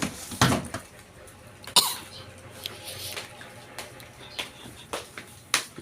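Several dry coughs spaced out over a few seconds, close and fairly loud, with quieter rustling between them.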